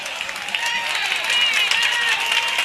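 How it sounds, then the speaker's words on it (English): A stadium crowd at a 1997 high school football game, North Penn against Abington, applauding a defensive stop, with a steady, distant wash of clapping and cheering from the stands. "the crowd applauds, and rightfully so"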